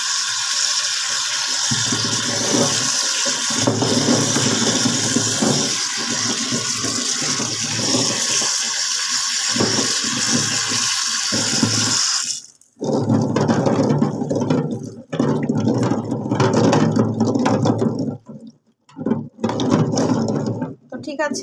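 Tap water runs while eggs are washed, a loud, steady hiss that is later broken into uneven bursts and pauses as the flow is interrupted.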